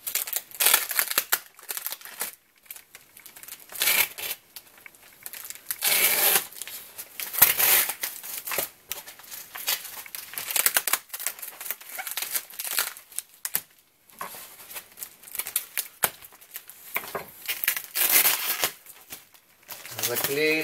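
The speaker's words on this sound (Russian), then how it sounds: "Так, разрываем скотч." Packing tape being ripped off a parcel from AliExpress holding flexible solar panels, a series of sharp tearing and crinkling bursts repeated over a long stretch, with someone talking in between.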